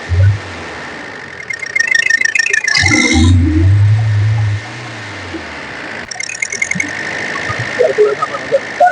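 A Tata Sumo Victa diesel engine cranks and catches, then idles with a steady rattling clatter, loud and close, with some mechanical knocking.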